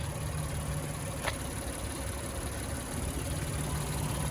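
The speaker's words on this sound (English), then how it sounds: "This is a smooth sounding engine" A 2020 Acura MDX A-Spec with all-wheel drive idles smoothly, a steady low engine hum with a faint constant whine, close and alone with no talk.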